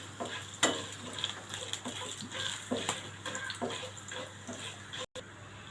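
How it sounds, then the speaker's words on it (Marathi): Cumin and coriander seeds dry-roasting in a pan with light stirring and scraping, a faint crackle and occasional utensil taps running steadily at close range, with no talk. "आता हे आपण जरा परतून घेऊया जिरा आणि धने जरा हलके भाजून घेऊया"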